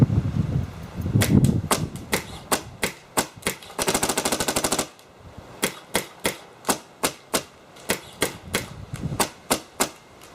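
Cyborg and Creed paintball markers fire side by side in sharp, snapping shots, first singly, then a rapid buzzing burst, then a steady run of evenly spaced pops.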